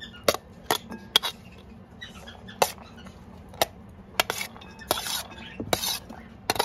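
Chicken being mixed with chopped carrot and onion in a bowl for a grilled chicken sandwich, heard as repeated clinks and scrapes of a utensil against the bowl in an irregular rhythm, close by and with no talking.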